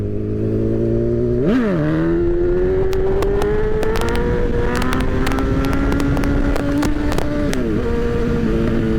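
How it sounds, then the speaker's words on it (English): A motorcycle engine revs hard as the rider pulls a wheelie, a loud close drone that blips up sharply, then climbs steadily and dips again near the end. "Now y'all watch how fast I pull this bike up."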